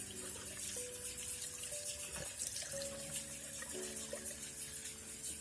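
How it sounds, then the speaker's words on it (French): Tap water runs steadily while a synthetic fibre wig is rinsed under it, a soft continuous splash and trickle at low level with small tonal shifts as the flow is disturbed. "Et je vais rincer ma perruque abondamment."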